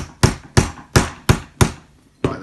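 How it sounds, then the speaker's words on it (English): A hammer strikes a curved metal bracket to flatten it, being made into a rodent drinking-bottle holder for a glass tank. Six sharp, loud, close blows land at a steady rhythm, each ringing briefly before a pause. "get yourself a hammer and then from the curved edge here, just flatten it down"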